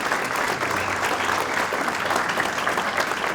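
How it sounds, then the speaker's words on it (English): A crowd at an athletics hall of fame banquet applauds steadily and loudly throughout, a dense wash of clapping without pause. "just give them a round of applause as well"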